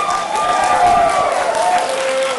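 Audience applause at a congressional district debate, sustained dense clapping from a crowd in a hall with some crowd noise mixed in.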